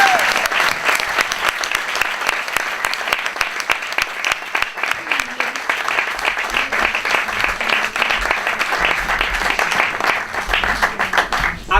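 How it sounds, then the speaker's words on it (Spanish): Sustained applause for two cabaret performers, a dense, steady wash of many hands clapping that holds strong through the whole stretch, with faint voices blending in. "Por favor, un fuerte aplauso."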